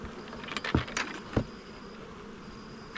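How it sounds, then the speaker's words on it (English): Honey bees trapped inside a nuc hive buzz in short, close bursts, a few sharp swells rising over a steady low hum, with no one talking. "Look at those bees trapped in there"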